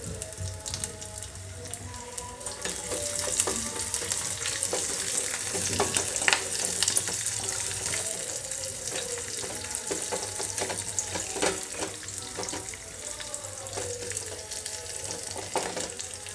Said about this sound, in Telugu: ఈ తాలింపు అంతా వేగనివ్వాలి